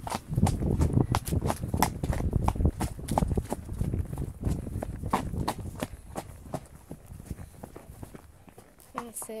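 A horse trots along a hard, dry country lane, its hooves striking in a quick, steady clip-clop up close, with a rider's voice speaking over it at times.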